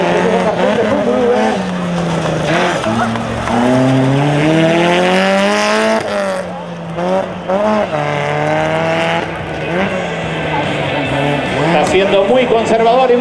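Rally car braking late and sliding sideways through a left-hand hairpin on a tarmac stage of the Rally Maspalomas, engine notes rising and falling through downshifts and revs, with race commentary over it.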